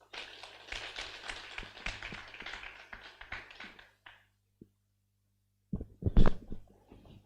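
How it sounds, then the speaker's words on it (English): Scattered applause from a financial literacy conference audience, a ragged spread of claps that thins out and stops, followed after a pause by a few close sounds. "A round of applause."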